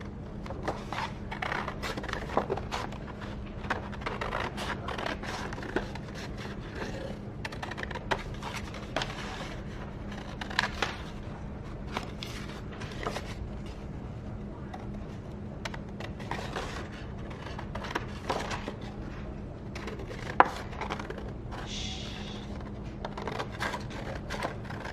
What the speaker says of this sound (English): now we're going to cut this out